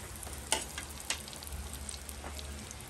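Butter sizzles in a pan at the start of a sisig sauté, a faint, even frying hiss with a couple of sharp taps from a utensil, heard close with no voices.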